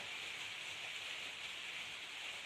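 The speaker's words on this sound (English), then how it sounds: "in case you're wondering, it's raining outside" Steady rain falling outdoors, a constant soft hiss of drops with no distinct individual impacts, moderately quiet and continuous throughout.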